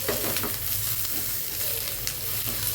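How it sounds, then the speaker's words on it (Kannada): Tomato goes into a pan of browned, golden onion and fries with a close, crackling sizzle, and occasional stirring scrapes come through underneath. "ಟೊಮೊಟೊ ಹಾಕೋಬೇಕು."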